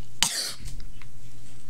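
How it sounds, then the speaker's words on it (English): A single sharp, loud cough bursts out close up, followed by a short throat-clearing tail and then quiet hum. "I cough."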